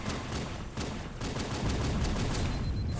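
Magnum pistol fire in Halo 2 amid a busy firefight, repeated sharp shots over dense, continuous battle noise, loud and close, with no talking during the shooting.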